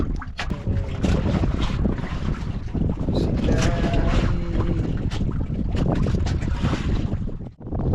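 Strong wind at sea roars around a small fishing boat, loud, continuous gusting and buffeting over the wash of waves, dropping briefly near the end.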